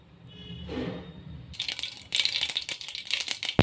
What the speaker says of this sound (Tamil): அடுப்பில் ஒரு கடாய் வச்சுருக்கேன் கொஞ்சமாக எண்ணெய் கொஞ்சம் கடுகு உளுந்து போட்டுக்கலாம்